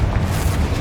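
A Confringo fire-blast explosion in Hogwarts Legacy, one sustained, deep booming rumble that fills the whole moment, loud and close with no voices.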